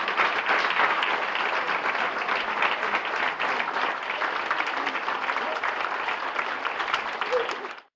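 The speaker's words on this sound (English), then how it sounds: "the crowd responded with thunderous applause" An audience at a hero recognition banquet applauds volunteers with steady, dense clapping that holds at an even level for about eight seconds before cutting off abruptly.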